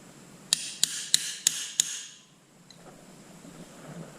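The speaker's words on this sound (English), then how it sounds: "I need to get me a little chisel and give this a little tap" A hammer taps a small chisel on a Kubota L3400 tractor during clutch adjustment, five sharp metallic strikes in an even rhythm, close and clear, followed by quiet handling noise.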